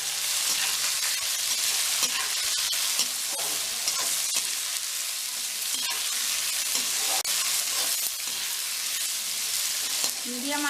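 Boiled carrots, beans and green peas being stirred in a frying pan over medium heat, with steady sizzling and scraping spoon strokes throughout.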